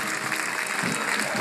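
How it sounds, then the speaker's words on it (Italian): A large outdoor crowd at Piazza di Siena claps for paratroopers during a Carabinieri bicentenary parade, with steady, dense applause throughout. "Molto applauditi qui dalla folla di piazza di Siena"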